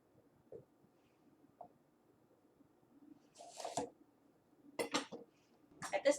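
A knife slicing the top and bottom off a pepper on a cutting board, giving a few soft, close cuts with crisp thunks and board taps spaced across a quiet kitchen.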